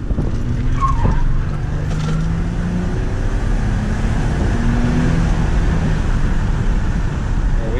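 A Mercedes driven hard squeals its tires in rising and falling screeches over a loud, rough engine roar, with the skidding tones sliding up and down throughout.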